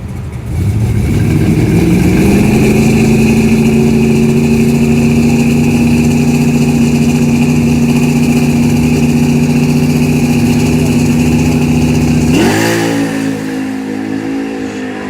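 A Chevrolet Malibu drag car making a bracket racing pass at Xtreme Raceway Park, its engine holding a loud sustained roar that climbs in pitch, then cuts off sharply near the end and winds down.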